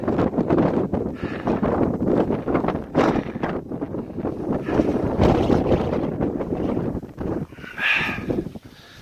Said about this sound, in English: the wind is just terrible up here